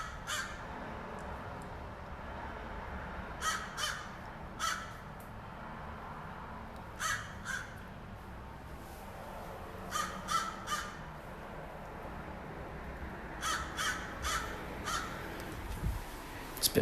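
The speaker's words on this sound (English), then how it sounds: "It's been a while since I've heard intense crow discussions." Crows caw in repeated bursts of harsh calls, some in quick clusters of two to four, at moderate distance over a steady low outdoor background in a yard; no talking.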